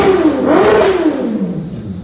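A neighbor's race car engine revs loudly and close by, its pitch climbing and dipping through one sustained roaring rev before easing off, with no voices.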